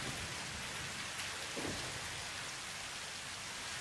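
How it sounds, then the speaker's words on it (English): Rain and thunder in Satisfactory, a steady close hiss of heavy rainfall with a low rolling rumble of thunder beneath it, continuous and without any voices. "I love the rain."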